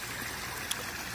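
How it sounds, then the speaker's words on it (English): A small DIY backyard pond waterfall planted with creeping Jenny trickles steadily, a soft continuous wash of water with one tiny splash, heard alone. "It's a waterfall with some creeping Jenny in it"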